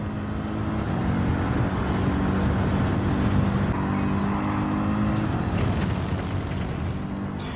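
In Gran Turismo 7, a race car's engine drones loudly and steadily at moderate revs with a few shifts up through the gears, heard continuously with no voices.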